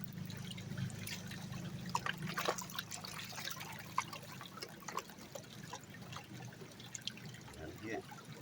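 Water sloshing and trickling as gravel and sand are washed in a gold pan at a river gravel bar, with irregular splashes and small rattles under a steady low flow of river water.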